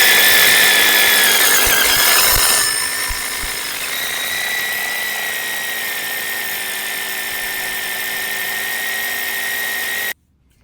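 A rotary hammer drill bores sideways through soil underground at a farm, a steady mechanical whine and rumble running continuously for about ten seconds after a brief louder burst, then cutting off abruptly.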